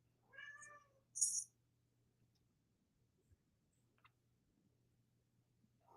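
A house cat meows twice in quick succession, a short mid-pitched call followed by a higher, sharper one, fairly close in an otherwise quiet room with a soft background hum and a few faint clicks.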